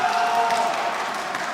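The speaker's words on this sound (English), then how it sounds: "There's some claps for that." Audience applause at the YCS Pasadena 2022 card game tournament finals: a steady, dense wash of clapping from a crowd, fairly loud and continuous throughout.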